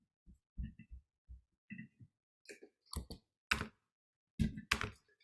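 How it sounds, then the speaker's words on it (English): Keys tapped on a computer keyboard while entering a place name into a location field, a run of separate clicks in short irregular bursts, close and fairly quiet with no talking. "I'm gonna type Boston"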